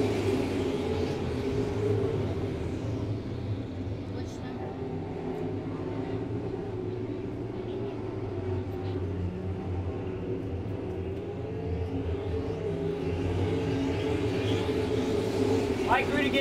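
Modified stock race cars run double file around a racetrack, their engines a steady, dense roar that holds loud and unbroken the whole way, with a commentator talking over it.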